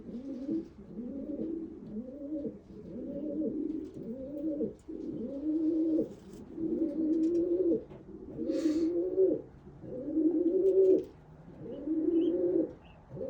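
Racing pigeons coo steadily inside a loft, a series of about ten rolling, close-up coos repeating in a regular rhythm with no talk over them.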